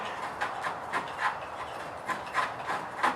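Short rasping strokes of a spokeshave shaving a wooden sword, about eight irregular scrapes close up, with quiet pauses between them.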